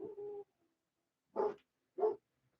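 Dogs barking at new neighbors, heard indoors: a short sustained yelp-like sound followed after a pause by two sharp separate barks, moderately near and fairly quiet, with no talking over them.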